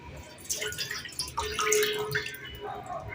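Water splashes and trickles out in uneven bursts as it is poured from a fridge crate, close by, with a dripping, gurgling quality and no voices.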